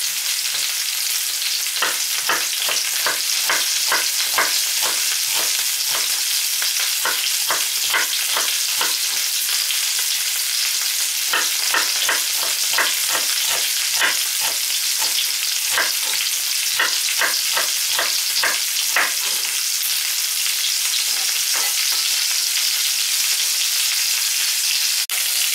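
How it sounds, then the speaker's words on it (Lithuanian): Potatoes fry in leftover fat in a pan and are turned on all sides. A constant loud sizzle runs throughout, broken by rhythmic scraping stirs in bursts, then a stretch of sizzling alone near the end. "apkepam pamaišydami iš visų pusių"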